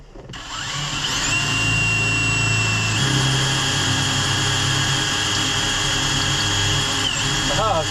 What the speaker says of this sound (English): So I brought a little drill bit for that.